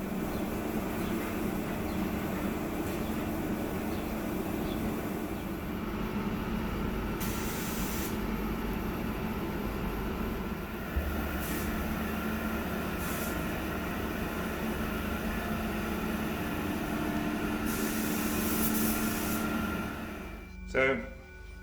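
An aerosol or spray gun hisses steadily at close range while coating small cosplay power loader parts, with longer continuous bursts and brief pauses, ending in a clatter.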